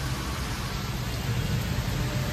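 Dense, constant roar of heavy rainfall during a lightning storm in Lake Town, loud and unbroken throughout, with no speech.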